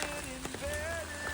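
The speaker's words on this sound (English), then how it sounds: "All right, it's raining." Steady rain patters on an umbrella on the Appalachian Trail with a soft continuous hiss, faint and close.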